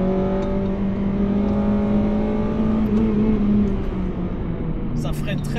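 Honda Integra Type R DC5 with Mugen parts, engine droning and rising in pitch under steady load while driving, close and continuous from inside the cabin, with a brief shift in tone near the end.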